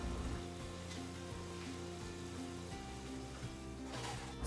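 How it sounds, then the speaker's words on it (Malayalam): Whole cloves, star anise and bay leaves sizzle in hot ghee for a Kozhikode-style beef dum biriyani: a faint, steady crackle that runs unbroken under a soft tonal backing. "സ്പൈസസ് നെയ്യിൽ കിടന്നിട്ട് ഒന്ന് മൂത്തിട്ട് വരണം."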